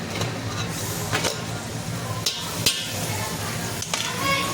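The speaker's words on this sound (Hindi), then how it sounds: "अच्छे से इसको भून लेंगे। 5 मिनट तक इसको भून लेंगे अच्छे से कीमा को।" Minced meat frying in a pot for keema masoor pulao, with a steady close sizzle and repeated scraping and clinking stirs of a spoon against the metal.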